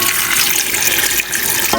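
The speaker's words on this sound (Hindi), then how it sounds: "और 1 गिलास इसके अंदर डालूँगी पानी का।" A glass of water is tipped into a cooking pot of cauliflower and meat curry seasoned with turmeric and chilli powder, a loud, close, continuous gushing splash with no speech.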